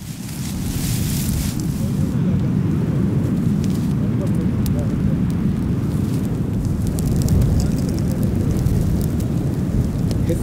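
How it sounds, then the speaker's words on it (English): Grass heaped over clams set in the ground burns with a steady broadband crackle and roar, a dense continuous hiss of fire close by, with faint voices in the background. "grass was laid over the clams and then set alight"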